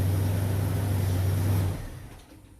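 A Jaguar XJ fires up after a new starter motor is fitted, its engine running with a steady low hum that drops off as it is shut down, heard alone without speech.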